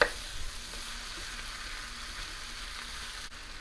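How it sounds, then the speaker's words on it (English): Potatoes sizzle steadily in a hot skillet, a dense, even crackle of frying that holds at a constant level throughout with no voices. "we are just going to cook this down a bit because potatoes take a lot longer than everything else"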